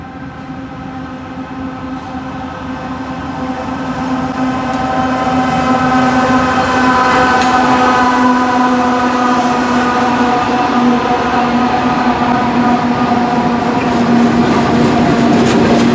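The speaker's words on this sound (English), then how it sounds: "to see the train come in" A train led by Norfolk Southern 4049 and Southern 8099 rumbles past nearby with steady rolling noise and tonal hums, growing louder over the first few seconds and then holding strong.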